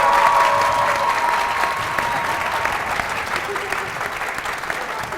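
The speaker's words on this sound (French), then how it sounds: "applaudissez pour eux." Continuous audience applause for university students at a Guinean event in Conakry, dense even clapping from a crowd that holds steady throughout at moderate loudness.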